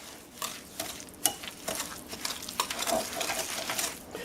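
Canned pumpkin, spices and sugar being mixed for pie filling, soft scraping and stirring strokes in a bowl with occasional light clinks, no talk.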